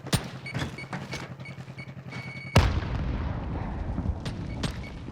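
Grenades explode in a Call of Duty Warzone arena duel. Scattered sharp cracks lead into one heavy, close blast about halfway through, followed by a lingering rumbling tail.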